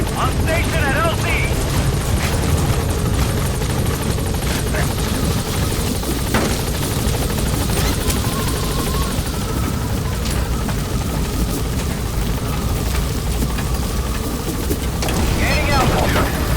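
Support helicopter in Metal Gear Solid V arriving at the landing zone, its steady rotor roar loud and continuous throughout, with faint bird calls and brief radio voice chatter over it.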